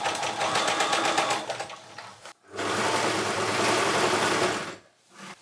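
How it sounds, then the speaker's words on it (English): A serger finishes the edges of a sewn cuff on a shirt made from an old tablecloth, running fast and loud in two close bursts with a short pause between and a brief stop at the end. "I'm going to sew around all the way, finish the edges with my serger"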